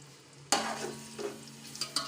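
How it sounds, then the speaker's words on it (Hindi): Chopped onions hit hot oil in a pan on a stove at medium flame with an abrupt sizzling burst, then keep frying in a steady crackle with a few stirring clatters, close and fairly quiet, no voices. "और साथ हम अपना प्याज डालेंगे जिसको हम फ्राई करेंगे।"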